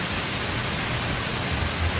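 Strong wind and heavy rain roar as a dense, unbroken hiss, loud and close throughout with no voices or distinct individual sounds.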